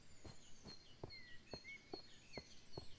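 Birds chirp in a snowy winter scene of the NSSS video game: a series of short, evenly spaced calls roughly every half second, with a few higher whistled notes, over quiet background.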